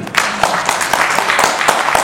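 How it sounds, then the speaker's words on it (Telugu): Applause from an audience at a film press meet for a movie event, a brief steady patter of many hands clapping at close range, without speech over it. "చప్పట్లు కొట్టినాను."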